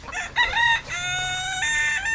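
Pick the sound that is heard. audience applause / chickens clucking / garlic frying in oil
chickens clucking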